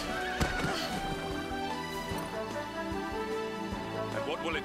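A horse whinnies in the video game Dragon Quest XI over steady hoofbeats and a continuous musical backdrop, with the neigh rising and falling through the middle of the clip.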